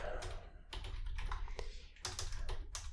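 Typing on a computer keyboard: steady clusters of close, crisp key clicks running throughout, with brief pauses between bursts and no talk.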